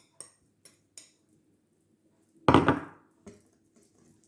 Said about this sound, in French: je verse 50 g de beurre dedans